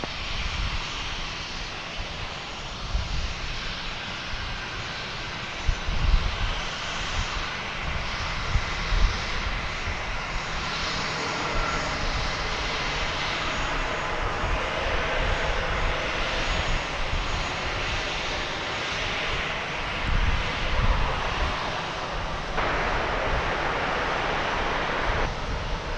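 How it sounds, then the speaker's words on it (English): An Airbus A321 jet airliner at DFW Airport roars past, its engine noise swelling and holding as a broad, loud rumble that fills the whole stretch, with no talk over it. "Here comes an Airbus A321 from Wichita, Kansas."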